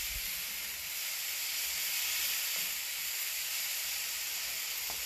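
Cast iron half moon griddle on a Kamado Joe with fajitas being stirred, giving a steady, moderately loud hiss and sizzle that holds evenly throughout with faint scraping.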